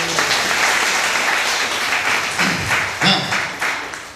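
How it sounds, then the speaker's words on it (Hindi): A church congregation at a Hindi Bible sermon breaks into applause, a dense, steady wash of many hands clapping at once, with a brief voice rising through it midway. "ताली बजा सकते हैं"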